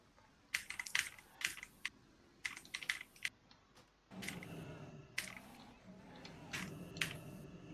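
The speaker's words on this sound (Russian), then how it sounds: "Кто там дрочит клавиатуру?" Computer keyboard typing, bursts of sharp clicking keystrokes in short irregular clusters, close and fairly quiet, with a muffled background of game sound and low chatter.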